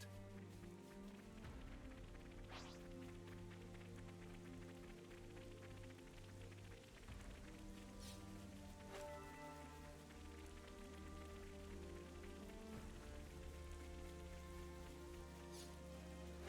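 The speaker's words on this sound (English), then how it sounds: "Seems like the rain's coming." Steady rain in the video game Xenoblade Chronicles 3 patters continuously under a low droning background hum, with a few faint knocks scattered throughout.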